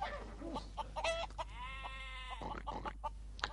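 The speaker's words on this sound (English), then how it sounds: "That's a rooster." A rooster crows in a long drawn-out call, framed by short clucking bursts before and after, fairly close with no talking.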